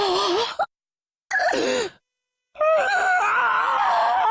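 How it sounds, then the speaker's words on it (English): Screams in the Steins;Gate visual novel come as three separate anguished vocal cries, the first two short and broken by silence, the last a longer, sustained wail, loud and close. "Oh, the screams!"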